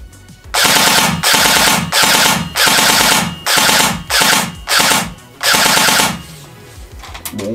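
A Poseidon Punisher airsoft AEG rifle fires seven loud full-auto bursts in a row, each rapid chattering string separated by brief pauses, close and unaccompanied.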